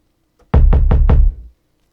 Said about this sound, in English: Kind of fat and real low.